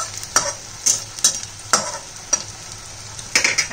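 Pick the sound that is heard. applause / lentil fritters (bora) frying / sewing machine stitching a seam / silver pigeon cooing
lentil fritters (bora) frying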